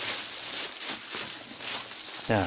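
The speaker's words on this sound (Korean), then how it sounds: "비닐을 이렇게 벗겨주시고요." Plastic protective film peeled from a part of an MX499 inkjet printer gives a soft, steady crackling rustle with a few louder tearing bursts, heard close up with no talking.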